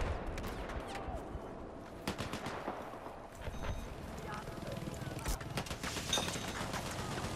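A hail of gunfire in the game Battlefield 4 on the Golmud Railway map, with rapid bursts and cracks of shots over a rumbling battle backdrop, mixed with game voice chatter.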